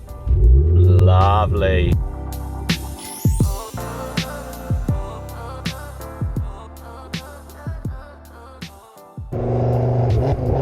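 A 480 BHP Ford Focus RS MK2 fires up with a deep low rumble, then settles into a burbling idle broken by a series of short sharp throttle blips, close by, with a brief spoken comment at the end.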